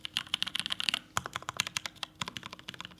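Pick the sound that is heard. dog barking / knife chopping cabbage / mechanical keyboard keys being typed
mechanical keyboard keys being typed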